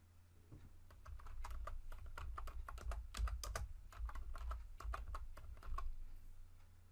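Rapid, irregular clicks of someone typing on a computer keyboard, close up, in uneven bursts with brief pauses.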